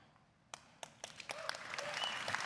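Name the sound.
audience applause at Ubisoft E3 press conference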